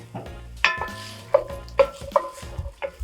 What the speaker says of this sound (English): Then I add the garlic. You give it a little stir. Let's take a spoon.